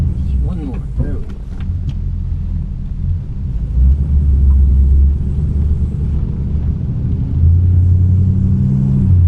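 A 1954 Oldsmobile car's engine runs with a steady low rumble while driving, swelling slightly in loudness partway through, with people talking over it.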